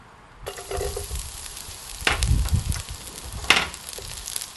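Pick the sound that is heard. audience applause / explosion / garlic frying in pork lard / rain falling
garlic frying in pork lard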